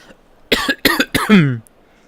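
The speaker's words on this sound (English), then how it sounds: "could I just like not have a cough attack constantly?" Three loud, close coughs in quick succession, the last one drawn out and raspy, then silence.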